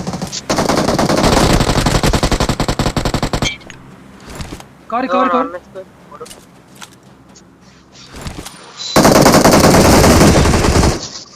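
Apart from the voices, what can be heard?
gunfire in a video game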